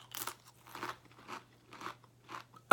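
Close, crisp crunching as ghost pepper chips are bitten and chewed, about five distinct crunch bursts in steady rhythm, ending with a sudden loud knock.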